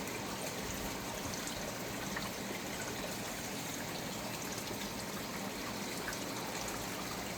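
A small garden waterfall runs steadily in a flower grove, a constant close splashing and trickling wash of water with no breaks, heard alone.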